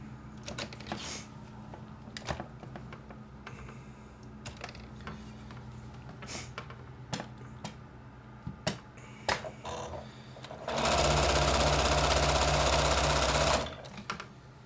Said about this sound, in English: we're just going to sew along that on all the various pieces